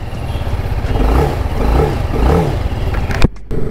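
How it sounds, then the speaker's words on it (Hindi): A TVS Apache RR 310 motorcycle engine revs hard while still cold, a loud, steady roar that rises and falls in a few surges before cutting off abruptly near the end. "अभी बाइक थोड़ी ठंडी है तो तुरंत ऐसे रेस पकड़ रही है।"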